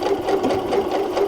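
A PFAFF ambition 610 sewing machine stitches a blind hem, giving a fast, steady mechanical whir with rapid rhythmic needle clatter, close and continuous with no talking.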